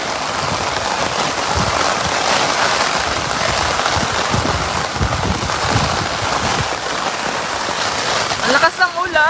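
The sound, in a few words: heavy rain during typhoon flood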